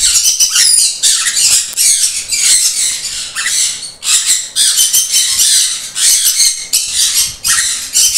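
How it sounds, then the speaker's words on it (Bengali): A pair of yellow-sided conures squawks in a steady run of harsh, loud, near calls, bursts crowding one after another with only brief gaps, and no talk over them. "এখানে দেখাবো এক পেয়ার ইয়েলো সাইডের কুনুর"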